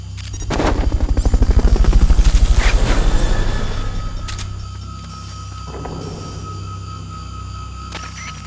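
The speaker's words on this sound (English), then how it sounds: "Fulton recovery helicopter is complete." Fulton recovery helicopter in the video game Metal Gear Solid: Peace Walker, a loud pulsing rotor chop that swells over the first few seconds and then fades, followed by a quieter tail.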